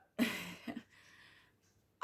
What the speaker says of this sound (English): I'm recovering from some viruses, so I'm coughing a lot.